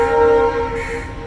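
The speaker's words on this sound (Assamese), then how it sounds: "এয়া ট্ৰেইনৰ মাত।" A passing train sounds a steady, sustained horn, loud and close, with layered tones holding for about a second before easing off slightly as rumbling continues underneath.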